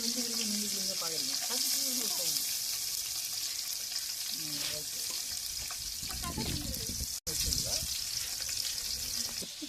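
Steady loud sizzling of 400 grams of onions frying in hot oil for chicken biryani, continuous throughout, with occasional stirring and a brief voice murmur.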